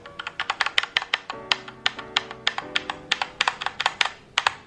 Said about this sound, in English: You get that feedback, but it's not as clicky as a mechanical keyboard